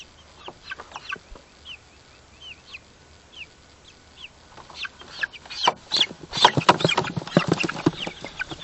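Young chicks released into a grass pen peep in scattered high chirps, building into dense, loud clucking and chattering from many chickens close by.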